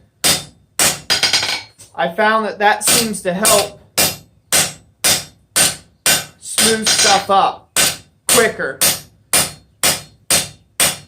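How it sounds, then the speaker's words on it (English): Rapid, evenly spaced hammer blows on hot steel while forging a bick iron for an anvil, loud and ringing with sharp attacks, continuing under a voice speaking partway through. "try to put a few hammer blows in there random-like"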